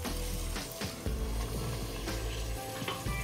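Spiced stuffed eggplant masala sizzles and fries steadily in a pan over low heat, a dense continuous crackle with occasional stirring scrapes throughout.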